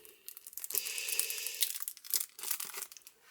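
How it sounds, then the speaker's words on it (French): Tightly sealed Panini Adrenalyn XL card pouch being torn open by hand, a series of close ragged foil tearing and crinkling bursts over about three seconds. "si j'arrive à ouvrir la pochette, elle est vraiment bien scellée"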